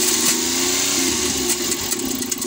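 A Suzuki K6A turbo car engine with a damaged turbo runs with a rough, vibrating hum and a rattling, whirring noise, steady and close.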